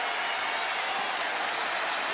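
Philadelphia home crowd at a 1999 NBA basketball game, a broad wash of cheering and applause that holds at a steady level throughout and sounds somewhat distant.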